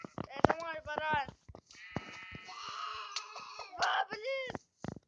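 Sheep in the Minecraft video game give several short, wavering bleats, close and clear between bursts of excited children's voices talking and laughing.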